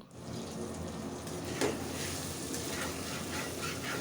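Fried elephant foot yam dropped into hot spiced oil, giving a steady, moderate sizzle and crackle with one brief clatter early on, without talk.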